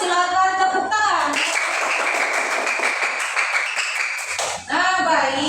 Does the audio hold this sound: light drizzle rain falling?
no